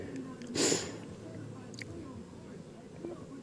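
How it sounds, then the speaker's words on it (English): A person sniffles once through the nose, a short close breathy burst near the start, followed by a quiet outdoor background while a drone flight is filmed. "Sorry for the sniffles."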